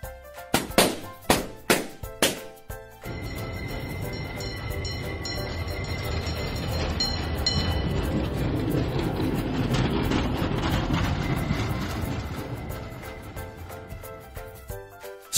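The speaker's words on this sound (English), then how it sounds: "Street car." A few sharp percussive hits open, then a streetcar rumbles past on a street with a steady rolling clatter and faint high squeal, swelling and fading.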